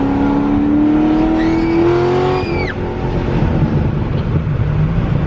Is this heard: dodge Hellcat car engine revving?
yes